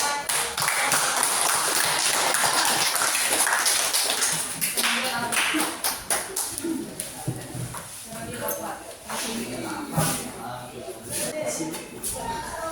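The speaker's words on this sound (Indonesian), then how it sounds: "berikan aplaus untuk" A class applauds group one in a classroom: dense clapping at first, then it breaks into scattered taps and claps, with voices talking through the second half.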